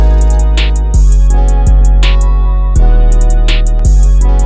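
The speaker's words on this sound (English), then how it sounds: "this sound and the chord progression" The second half of a verse in a wavy trap beat made in FL Studio, with a chord progression layered over heavy sustained bass, kick hits and ticking hi-hats, loud and continuous with no talking.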